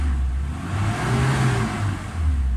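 Mitsubishi Adventure with a 4G63 engine revving briefly, the engine note swelling up and dropping back twice in quick throttle blips, close and loud with no talking.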